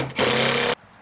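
A power drill drives a screw into wood near the edge of a utility trailer side, a short, close, loud whirring burst of about half a second that stops abruptly.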